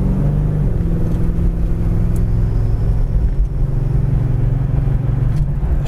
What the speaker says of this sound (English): Now there's our kick down on the transmission. Shifts right down to passing gear.